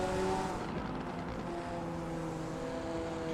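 Audi and McLaren GT race cars in a racing video game at the Nürburgring GP, engines droning and whining together at a steady moderate level with shifting tones.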